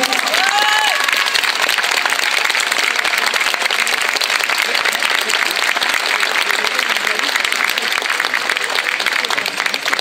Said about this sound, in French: on peut les applaudir, c'est vraiment fabuleux